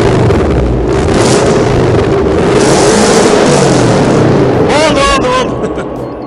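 A Lada Granta Sport's engine roars loudly and steadily in the foreground, with wind buffeting the microphone, then the sound eases off near the end while a voice briefly speaks.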